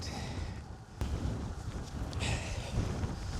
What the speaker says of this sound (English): That wind, strong as fuck. It's literally pushing my bike off the road.